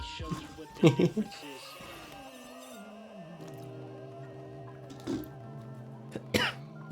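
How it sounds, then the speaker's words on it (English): Several short, harsh coughs in small clusters, close to the mic, separated by quieter stretches with a tonal background hum. "This fucking cough."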